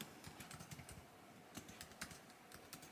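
Quick, light clicking of a computer keyboard as text is typed, close and quiet, keystrokes coming in short irregular bursts with nobody talking.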